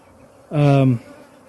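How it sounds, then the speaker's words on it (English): Honey bees from backyard and cutout colonies buzzing, a single loud, close, steady buzz lasting about half a second that rises and fades abruptly against a quiet background. "so that is all of my bees other than the ones in my backyard."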